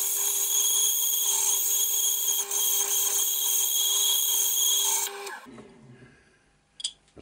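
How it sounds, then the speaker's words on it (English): A texture wheel works a walnut blank spinning on a wood lathe, giving a steady, loud high-pitched whir with a constant tone for about five seconds, then stopping abruptly and leaving faint clicks and a brief sharp tap. "I'm just starting now with a little texture wheel. I want to put some texture on this walnut."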